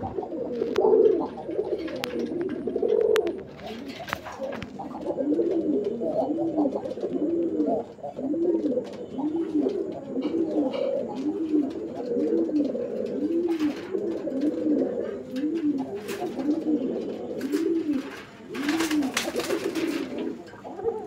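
A male domestic pigeon coos in a close, regular rhythm, repeating rounded throaty phrases roughly once a second, with faint chatter and a few sharp background knocks.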